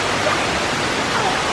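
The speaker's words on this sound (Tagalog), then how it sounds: "Guys, so that's the waterfall." Waterfall at Gardens by the Bay, a dense, steady roaring rush of falling water, loud and unbroken throughout.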